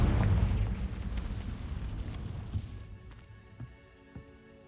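A Confringo blasting spell explodes in Hogwarts Legacy with a heavy, rumbling boom that fades over a few seconds, followed by a couple of faint pops and debris sounds.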